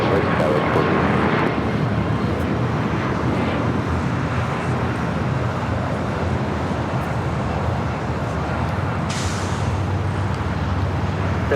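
An American Airlines heavy airliner takes off from runway 25 right at LAX, a broad, continuous jet roar that stays loud and steady with a slight rise in hiss near the end.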